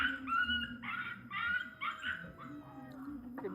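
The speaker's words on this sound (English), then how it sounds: "The big dog them start fight." Dogs on a farm, a big dog among them, scuffle with a run of close, loud whimpering yelps and barks in quick overlapping bursts, then a sharper burst at the end.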